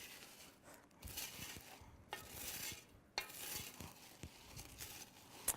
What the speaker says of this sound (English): So all we're doing is stirring this around like crazy and coating those in marshmallows.